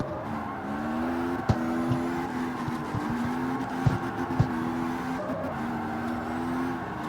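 A tuned drift car in the CarX Street video game holds a steady, droning engine note with lingering tire squeal throughout, punctuated by a few sharp knocks and shifts.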